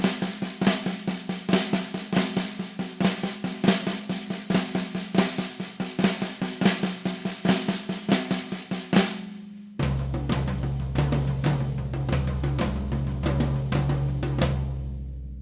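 Drum kit plays flams in a repeating seven-note grouping of three plus four as sixteenth notes, crisp doubled strikes in a tight driving pattern up close, then a sudden shift to a fuller, washier kit sound near the end.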